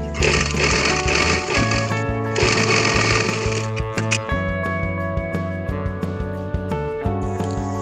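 A sewing machine runs in bursts while stitching a pleated blouse sleeve, a close, loud mechanical rattle with tonal motor hum that pauses and restarts, ending in short choppy runs.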